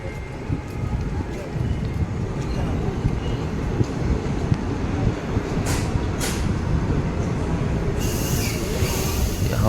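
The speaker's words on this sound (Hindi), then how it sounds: "हमारी ट्रेन अभी रुक गई है रामपुर जंक्शन पर।" Mahamana Express train halting at Rampur Junction, a steady loud rumble of wheels and carriage with brief brake hiss bursts near the end, heard from inside the moving train with voices talking in the background.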